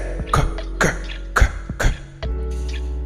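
A voice imitates a fit of coughing: about four rough, wheezy coughs in quick succession, close and fairly loud.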